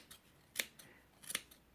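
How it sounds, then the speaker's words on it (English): Scissors snip through the yarn loops of a pom-pom in a few sharp, close cuts, separate metallic clicks spaced apart with quiet between them. "what I'm now going to do is take my scissors and snip all of"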